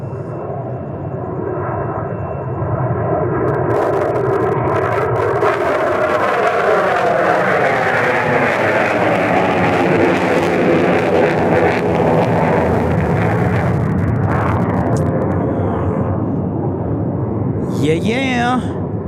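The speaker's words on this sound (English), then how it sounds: "we got afterburners" An Air National Guard F-16 fighter jet takes off on afterburner at Tucson International Airport, building into a loud, sustained roar that sweeps in pitch as it passes, then fades, with people talking and cheering over it.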